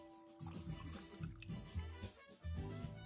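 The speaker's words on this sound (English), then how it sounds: "pouring over fresh ice." Cocktail poured from a pitcher over fresh ice in a glass, a soft, continuous liquid pour with faint clinking, steady at moderate level for about three seconds.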